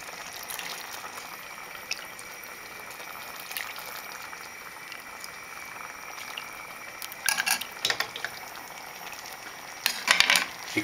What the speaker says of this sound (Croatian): I kuhamo dok kuskus ne omekša.